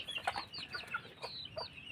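Chickens on a farm cluck in quick irregular bursts, several short throaty calls at close-to-mid distance, including a large male bird that stays near the chicks, with no talk.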